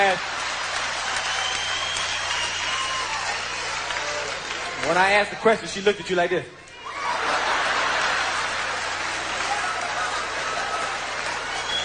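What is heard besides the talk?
audience clapping at a comedy show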